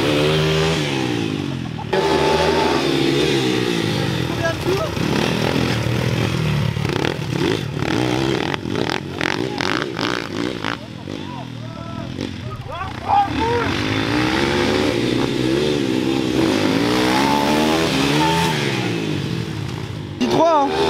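Dirt bike motorcycle engines revving and racing past at close range, loud and continuous with rising and falling pitch sweeps, while people talk and shout over the engine noise.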